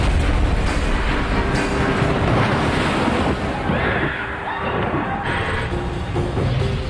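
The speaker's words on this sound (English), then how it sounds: "3 giant waves approach shore." Broad roaring wash of surging water, like massive ocean waves advancing on a shoreline after an undersea earthquake, steady and loud throughout with wind-like rumble, briefly easing midway before building again.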